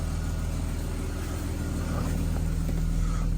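A 1995 Jaguar XJR engine, restarted after a year and a half of sitting unused, settles into a steady, even idle hum that carries on unbroken throughout.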